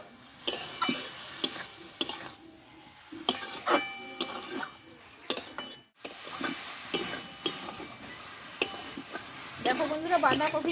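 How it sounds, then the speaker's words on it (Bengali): Cabbage and spices sauté in a pan with Kashmiri chilli powder and a little sugar, giving a steady sizzle broken by frequent scraping and clinking stirs of a utensil against the pan, with brief pauses. "মশলাটা কষতে কষতে একদম একটুখানি হয়ে গেছে নরমও হয়ে গেছে"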